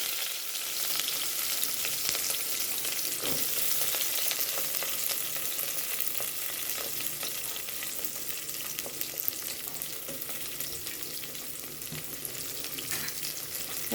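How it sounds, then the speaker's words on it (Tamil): Onions frying in oil with cinnamon and cloves for a tomato curry, a steady close sizzle with light crackles and occasional stirring taps, no talking. "வெங்காயத்தை போட்டு நல்லா வதக்கிக்கோங்க."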